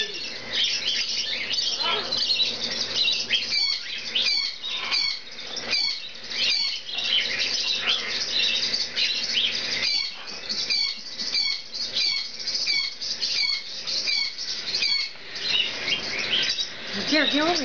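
A hybrid scarlet macaw chick gives repeated sharp chirping calls in quick bursts, close and fairly loud, with a person's soft voice now and then in the background.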